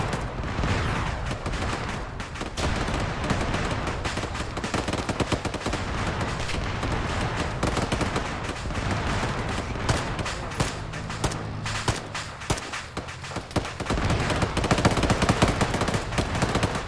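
Sustained suppressing fire in a ground infantry combat game: continuous machine gun bursts and rifle shots overlap almost without pause, loud and close, with heavier booms mixed in near the end.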